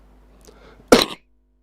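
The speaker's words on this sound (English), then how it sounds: "I want to cough." One short, sharp cough close to the microphone from a radio host, loud and abrupt, followed by silence.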